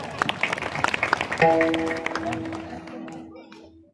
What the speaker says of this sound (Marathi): आमच्या महाराजासाठी एकदा टाळ्या वाजवा.